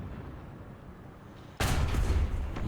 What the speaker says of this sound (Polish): Te strzały to takie raczej na przypomnienie, że, że tu jestem.